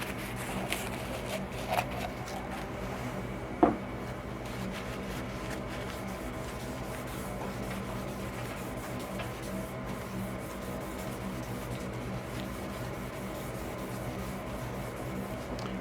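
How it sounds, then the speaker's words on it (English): Wire wool rubs over a fresh shellac coat on a spalted magnolia bowl, a continuous scratchy rasp with a couple of brief knocks. "then denib it with wire wool"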